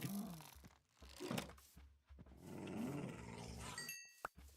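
A dog growls in the game Minecraft in several rough, low bursts with brief pauses between them, ending in a short sharp squeak.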